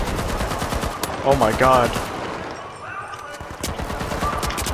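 Rapid bursts of automatic gunfire from a heavily recoiling weapon in the shooter game The Finals, loud and close, with a voice exclaiming over the shots partway through.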